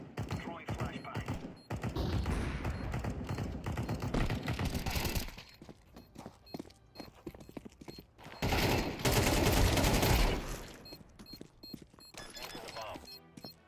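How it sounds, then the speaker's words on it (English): Counter-Strike 2 gunfight in which a flashbang is thrown, with bursts of rapid gunfire and sharp cracks in dense clusters, louder near the start and again toward the end, separated by quieter stretches of scattered shots and game effects. "Throwing flashbang."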